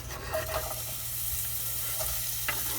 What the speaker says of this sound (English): Start off with a few onions, sweat them down first.